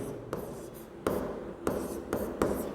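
Writing on a board in a classroom, heard as quiet scratchy strokes broken by several sharp taps as the marker or chalk meets the surface. The sound is close and irregular, with no voices.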